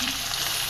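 Curry leaves and chopped onion hit hot oil with mustard seeds, giving a loud, dense, continuous sizzle close up, with no voices.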